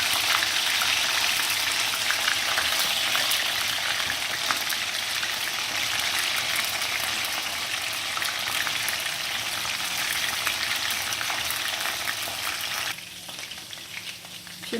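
Chicken sizzles gently in a karahi over a low flame, a continuous crackling fry heard alone that drops off slightly near the end.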